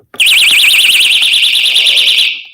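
A personal safety alarm warbles shrilly, rapidly and continuously at close range, loud and piercing, running steadily for about two seconds before cutting off.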